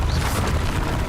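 Depulso force spell cast in Hogwarts Legacy, a short booming blast with a dense low rumble that swells and fades over about a second.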